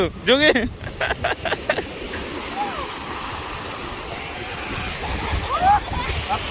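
Sea waves washing onto a beach at Busan, South Korea, a steady broad wash with wind buffeting the microphone, while voices and shouts of people at play ring out near the start and again at the end.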